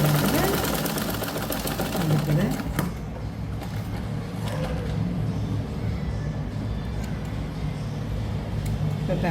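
A sewing machine runs in steady stitching bursts while a blouse neck is sewn, its rapid mechanical chatter mixed with a voice talking over it.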